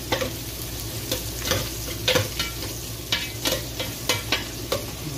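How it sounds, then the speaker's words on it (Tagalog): Onions frying in a pan for Filipino tinolang manok, a steady close sizzle broken by repeated sharp scrapes and clacks of stirring, with no talk. "Gusto ko kasi yung talagang lutong-luto yung sibuyas."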